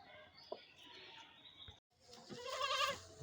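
A young goat, a Totapuri crossed with a local breed, gives a loud, wavering bleat close by after a quieter stretch of farmyard sounds.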